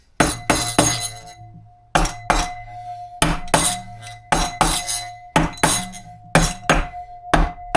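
Sharp metallic blows from a bigger toffee hammer drive a Honda CD200 engine into place, loud and close, landing in quick clusters of two to four ringing knocks separated by short pauses; a voice says a word near the middle.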